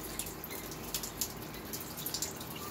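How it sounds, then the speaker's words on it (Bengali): Water is poured steadily into sambar cooking in a pot, a soft continuous splash and trickle with light dripping, faint and close, with no talking. "বেশি করে জল দেবো"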